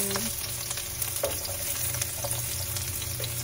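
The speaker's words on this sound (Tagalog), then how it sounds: "Mainit na yung ating mantika guys. Lagyan natin ang bawang." Garlic fries in hot cooking oil with a steady, close crackle and sizzle, a few small clicks and taps from the pan rising briefly above the hiss.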